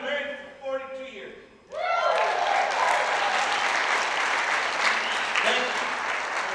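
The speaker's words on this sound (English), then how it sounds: "It was very nice of you to applaud." An audience at a comedy show breaks into loud, sustained applause after someone speaking on stage, the clapping swelling suddenly and continuing for several seconds.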